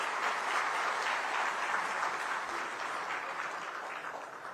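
An audience at a Pravasi Bharatiya Divas gathering of the Indian diaspora claps steadily in a dense, sustained round of applause that fades slightly toward the end, with no speech over it.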